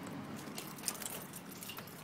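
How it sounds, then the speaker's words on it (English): Keys jangle faintly and continuously as someone gets into a car, a soft metallic rattle over quiet background noise. "Now we're gonna get into the car,"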